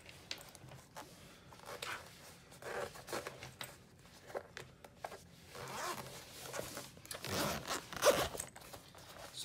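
A zipper on a travel bag is opened in a series of short, quiet rasping pulls near the microphone, with soft rustling of the bag between strokes and no talking.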